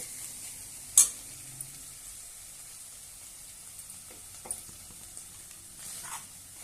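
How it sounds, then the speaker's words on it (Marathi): Shepu (dill) bhaji steaming in a pan gives a quiet, soft sizzle throughout, broken by a few sharp clinks and scrapes of a spoon against the pan, the first one loudest. "मस्त अशी आपली भाजी शिजलेली आहे वाफ्यावर छानपैकी शिजल्या जाते"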